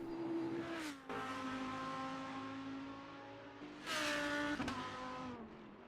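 Race car engines in a racing game, a high droning whine with tonal harmonics that dips briefly, then a second car surges loudly past with a rising, then falling pitch, no speech.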